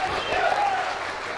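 A church congregation applauds together, a dense, steady wash of clapping that fills the room evenly from start to finish with no voices standing out above it.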